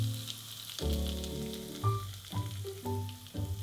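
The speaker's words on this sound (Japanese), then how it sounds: "卵液を流し入れる。" Egg mixture with grated cheese and pepper pours into a hot frying pan and sizzles loudly and steadily up close, with clinks and knocks of cookware over the frying.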